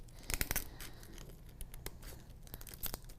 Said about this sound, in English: This stencil film, I'm just using some regular scissors here.